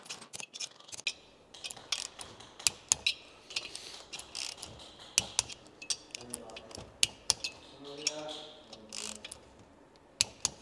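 A torque wrench tightens bolts on a Vespa engine with a Polini 221 kit, making sharp, close metallic clicks and ratchet bursts at irregular intervals, with a brief murmur of voice partway through.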